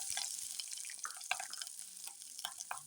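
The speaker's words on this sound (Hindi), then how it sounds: "अब इसमें शिमला मिर्च ऐड कर देंगे" Bell peppers dropped into about two tablespoons of hot oil in a pan, giving a steady crackling sizzle with scattered sharp pops and stirring clinks, fairly close and alone without talk.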